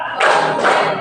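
Students standing in a classroom clap in unison, two loud, close group bursts of many hands landing together.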